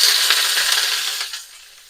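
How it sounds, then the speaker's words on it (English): Sliced leek sizzles hard in a hot pan for Szechuan-style pork, a loud, steady hiss that fades slightly toward the end. "That sizzle tells you it's hot."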